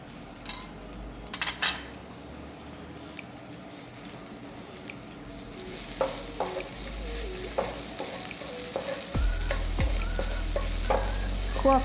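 Chili and garlic stir-frying in a pan for pork meatball holy basil stir-fry, a steady close sizzle broken by repeated scraping and clinks of a spatula against the pan, with a low rumble joining in partway through.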